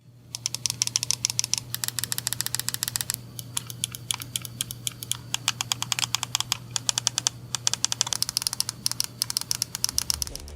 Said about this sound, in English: Clicky switches are littered throughout the device just like the previous V2 models and make for one hell of an experience.